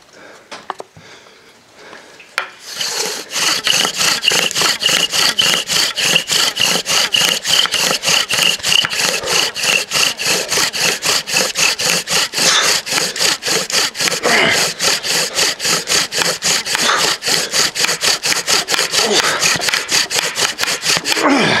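A thick wooden spindle is drilled back and forth into a thick hearthboard for a friction fire, giving fast, rhythmic rasping strokes that start after a quiet moment and continue steadily, loud and close.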